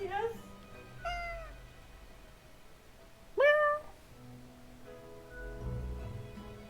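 A cat meows in a video game, several short rising-falling mews with one louder cry in the middle, over quiet background music.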